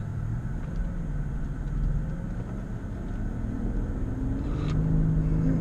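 A Mercedes S65 with worn-out brakes accelerating, giving a steady low engine rumble and road noise that swells slightly toward the end, heard from inside with no talking.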